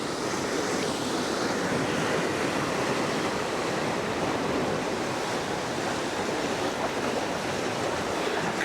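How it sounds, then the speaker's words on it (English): Ocean waves roll onto the shore on the Miura coast, a continuous loud wash of surf with wind noise and no distinct breaks. "It's really cool watching the waves come in."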